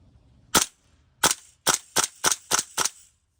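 Golden Eagle Block 3 gas blowback airsoft rifle firing seven sharp, loud cracks: two spaced single shots, then a quicker run of five evenly spaced pops, close by and with nothing else around them.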